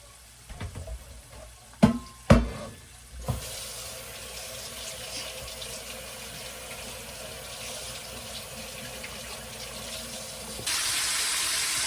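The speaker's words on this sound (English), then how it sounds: "Let me wash my hands." A sink tap is opened for hand washing after a few sharp clunks and knocks; water then runs steadily as a soft hiss for several seconds, growing a bit louder and brighter near the end, nearby and without talk.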